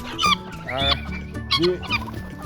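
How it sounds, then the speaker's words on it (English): Several harsh, raspy guinea fowl calls repeated in short bursts, close by and loud, overlapping with clucking and honking tones, on a Jamaican poultry farm. "Guinea Fowl."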